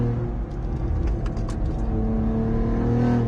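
A 625 wheel-horsepower Cadillac ATS-V on a race track, its engine droning loud and steady with a deep rumble and a slight rise in revs, alone without talk.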